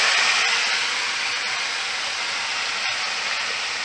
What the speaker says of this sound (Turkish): Kızgın yağ döküyoruz nanemizin üzerine.